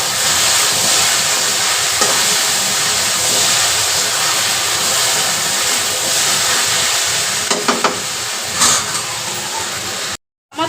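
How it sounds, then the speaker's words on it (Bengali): Okra (bhindi) frying in a pan until crisp, a loud, constant close hiss of hot oil that runs unbroken for most of the time, with a few light scrapes near the end before it cuts off. "সাইডে আমার ভেন্ডিটা ফ্রাই হয়ে আসছে, একদম ঝুরঝুরি হয়ে যাচ্ছে।"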